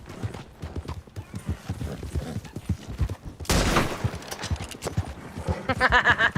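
Rhythmic clip-clop of horse hooves in a video game, quick repeated thuds interrupted by a burst of noisy gunfire, followed by more hoofbeats and a brief whinny-like tone.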